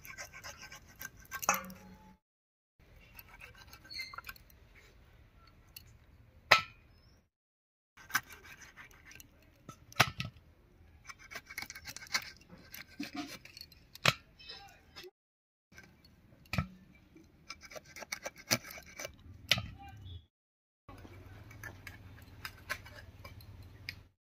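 A knife scales and cuts a snakehead (shol) fish into pieces, giving faint, sharp taps and short scrapes in irregular bursts separated by quiet pauses.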